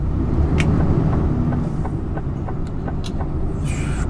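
A Class 1 HGV truck's engine strains hard uphill without getting a gear, a loud, dense, unbroken drone with faint clicks and hisses on top.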